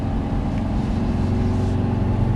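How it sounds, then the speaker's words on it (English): Mercedes GLC 43 AMG SUV in Sport Plus mode accelerating, its exhaust and engine giving a steady, loud, low droning rumble from start to finish with no talk over it. "Ooh, the exhaust sounds really nice in this too."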